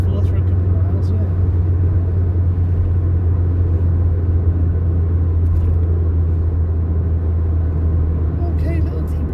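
A car engine hums low and steady while cruising in fourth gear at around sixty on a road in Wales, with constant tyre and road rumble from inside the cabin and a voice talking over the drive.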